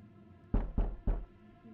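Three heavy, evenly spaced knocks on a door by police in the video game 12 Minutes, close and dull, with quiet background in between.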